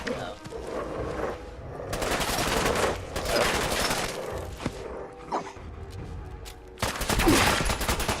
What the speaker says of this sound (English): Oh, you're shooting me too, Piper?